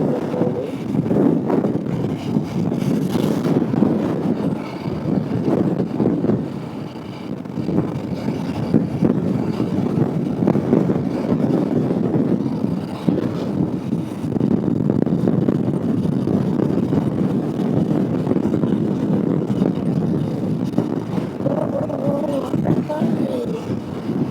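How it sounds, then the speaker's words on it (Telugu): Strong wind buffets the microphone while a person rides along a bypass road near a village. The rumble and gusts are loud and continuous, rising and falling throughout. "రోడ్ అయితే గాలి బాగా వస్తుంది"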